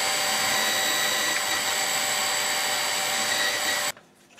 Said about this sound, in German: Ich bohre das gerade mal.